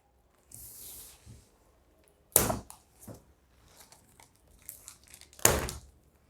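The packaging around a heavy set of Grade 8 school books is cut open, giving a crinkle of plastic followed by two sharp ripping tears and softer rustling in between, all close by.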